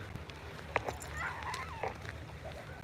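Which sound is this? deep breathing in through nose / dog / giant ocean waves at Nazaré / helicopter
dog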